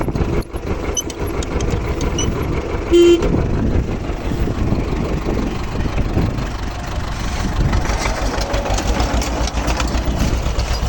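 A T-25 tractor engine runs steadily during potato planting outdoors, a continuous low rumbling drone with a brief tonal toot near the start, close and loud throughout.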